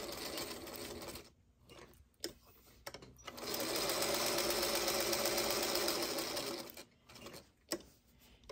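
A sewing machine stitches a quilt piece in steady bursts, running for several seconds at a time with short pauses between runs, close and clear with no talk.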